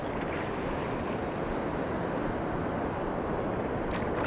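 Big, powerful ocean waves break on a fishing outing, making a steady, loud roar of surf with wind buffeting the microphone throughout and no voices.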